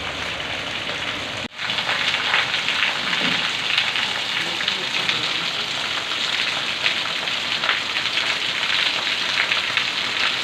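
Steady rain falls outside, a dense and even hiss of drops on surfaces that stays constant after a brief dropout near the start.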